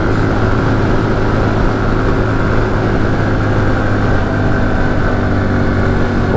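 Honda Super Cub C125 motorcycle straining uphill in fourth gear: a loud, steady engine drone with constant humming tones, blended with heavy wind rush, close and continuous throughout.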